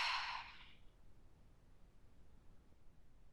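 A single deep exhale during a yoga relaxation, a breathy sigh loud and close at the start that fades within a second into quiet room noise.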